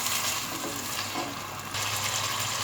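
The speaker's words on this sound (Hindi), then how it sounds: "जब तक हम अभी गोश्त को एक अच्छा सा सुनहरा कलर होने तक भूनेंगे" Beef frying in spices for korma, a dense, steady sizzle at moderate volume with a brief dip in the middle before it swells again.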